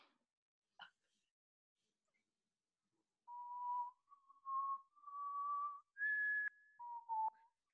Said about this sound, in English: Circular whistling.